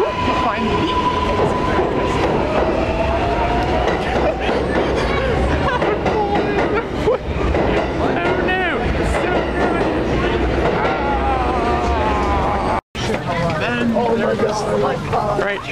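Crowded subway train on the 4, 5 or 6 line: a loud, continuous rumble with squealing wheel tones and rattling, running steadily throughout, with people talking under the noise.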